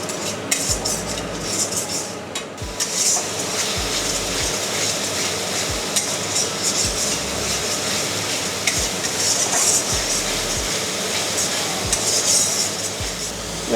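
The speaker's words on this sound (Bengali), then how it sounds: "অল্প একটু কাশ্মীরি লঙ্কা গুঁড়ো, জিরে গুঁড়ো আর হাফ চামচ মতো ধনে গুঁড়ো দিয়ে ভালো করে কষিয়ে নেব" Kashmiri chilli, cumin and coriander powders sautéed and stirred in a pan for a snakehead fish curry, giving a steady sizzle with a spoon repeatedly scraping and clinking against the metal, close and continuous.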